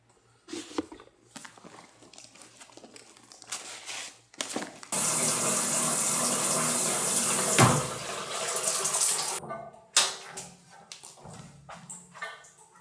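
A shower runs steadily for several seconds with a broad, constant hiss of spraying water, ending abruptly. Softer splashes and handling noises come before and after.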